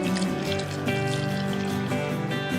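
Water trickles and splashes steadily into a bowl of pancake batter with egg and flour, a continuous close liquid pour with no talking.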